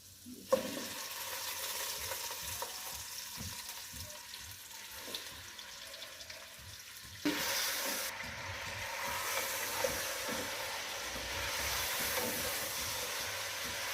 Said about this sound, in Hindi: लहसुन का कलर चेंज हो गया। अब मैं इसमें चिकन डाल दूंगी।